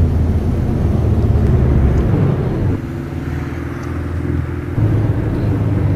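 Renault Clio 4 with a 2.0 engine drives in a road racing game, producing a loud, steady engine drone that dips briefly around gear changes before pulling strongly again.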